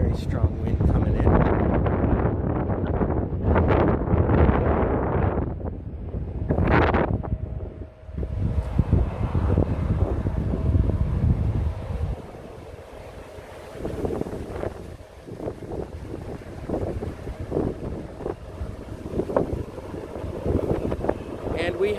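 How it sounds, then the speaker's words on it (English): Strong gusty wind buffeting a microphone at Bayfront Park in Millbrae, California, a loud roaring rumble that surges and fades, with a person talking over it early on, then a steadier rushing blow. "We have a very strong wind coming in."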